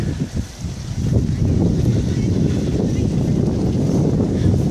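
Strong wind blusters across an open hillside near a spreading fire, a constant loud rumble of buffeting gusts against the microphone, steady throughout.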